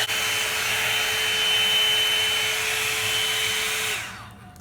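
A Revlon One Step hair dryer and volumizer blows steadily and loudly while drying frizzy hair, a continuous whooshing motor hum with a high whine that cuts off near the end.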